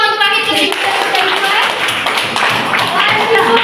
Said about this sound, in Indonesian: Tepuk tangan untuk kami terus.